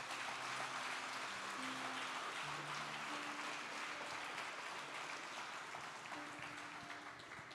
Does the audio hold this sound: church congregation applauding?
yes